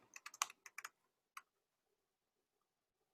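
Quick keystrokes on a computer keyboard, a short close burst of about eight light taps followed by a single later tap, faint in an otherwise quiet room.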